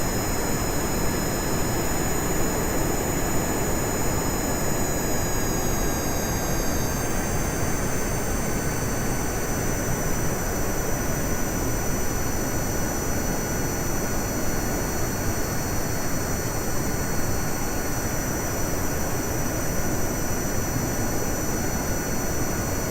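Steady loud roar of an aircraft jet engine during a runway landing approach in Kerbal Space Program, a continuous broadband rumble with whining high tones that shift partway through, no voices.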